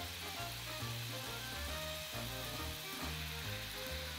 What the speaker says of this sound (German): Und jetzt kommt es in die Pfanne.